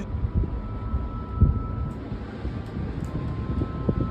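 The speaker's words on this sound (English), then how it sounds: "It's fucking windy up here too!" Strong wind at a mountain viewpoint overlooking the ocean and a city buffets the microphone in an uneven, rumbling low roar with gusty surges throughout.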